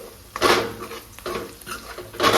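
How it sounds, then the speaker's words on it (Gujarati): A spoon scrapes and clinks against a metal cooking pot in a few short bursts of stirring red chilli powder and spices, close by, with faint sizzling between. "હવે આપણે એને હલાવી લઈશું"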